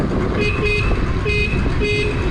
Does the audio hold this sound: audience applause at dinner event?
no